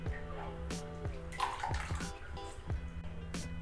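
Grated coconut squeezed by hand to wring out coconut milk, giving wet squelching, dripping and splashing of liquid into a bowl with a few soft knocks, fairly quiet and close.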